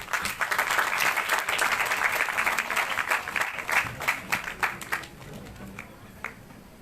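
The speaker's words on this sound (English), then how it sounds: "I request the audience to welcome the guests with a huge round of applause" An audience at the opening of a science feast at a science centre applauds dignitaries with dense, sustained clapping that thins into scattered claps and fades out.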